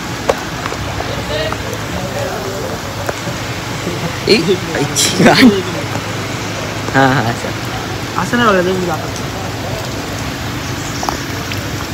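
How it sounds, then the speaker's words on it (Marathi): Heavy monsoon rain pours steadily at a farmhouse, a dense hiss that runs throughout beneath people laughing and talking nearby. "हे बघू शकता फुल पाऊस पडत आहे जोरदार"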